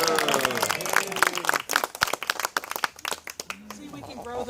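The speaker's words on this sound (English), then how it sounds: "We didn't get to clap for Mary." A small audience claps for a few seconds, loud scattered hand claps with voices talking over them.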